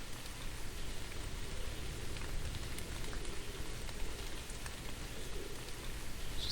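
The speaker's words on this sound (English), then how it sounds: "This is dangerous because it's raining." Steady rain hissing in the horror video game The Moon Sliver, a constant broadband wash with faint droplet patter, heard alone without talk throughout.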